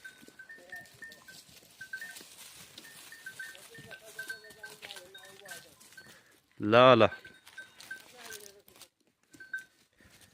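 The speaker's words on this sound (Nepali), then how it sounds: "जङ्गलमा कहाँ आयो यो बाख्रा" A goat grazing in a jungle lets out one loud, close, wavering bleat partway through, while people talk and call out on and off around it.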